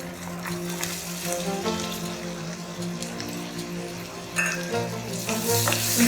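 Green chilies, garlic and ginger fry in hot oil with spluttering cumin seeds, a steady close sizzle with crackling pops that grow louder toward the end, no voices.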